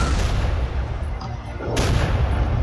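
Tank cannon fire in the Shell Shock Live artillery game using the digger weapon: a loud, dense boom-and-rumble that fills the short stretch, briefly easing before a second heavy burst.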